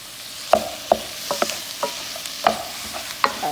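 Ground beef browning in a pan, a wooden spoon breaking it up with irregular knocks and scrapes over a soft, steady sizzle, close and moderately loud.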